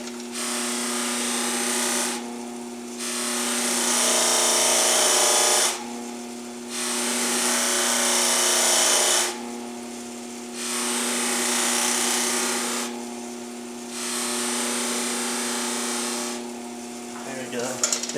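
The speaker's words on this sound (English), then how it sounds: "I'm going to apply a little compound to the buffing wheel." A Delta 8-inch bench grinder spins a buffing wheel loaded with compound to polish a dull cartridge. A steady motor whine runs throughout, swelling into louder rasping passes about four times as the piece is pressed to the wheel.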